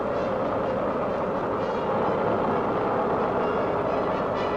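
A V-2 rocket launched at White Sands in 1947 roars overhead about a mile up, a continuous, dense, rumbling blast that stays loud and unbroken throughout.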